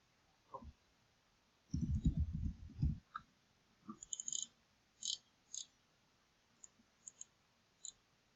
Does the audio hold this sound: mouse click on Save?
yes